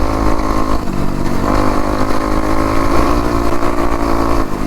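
A homemade electric dirt bike rides over bumpy ground and pops a small wheelie, giving a steady, loud drive noise with rattling and shaking throughout, close to the mic.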